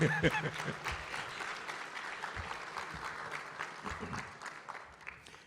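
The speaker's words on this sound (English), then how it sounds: "Let's give him a round of applause, okay?" An audience applauds at a 2020 MEAC Hall of Fame ceremony, a sustained round of clapping from a hall crowd that slowly fades over several seconds.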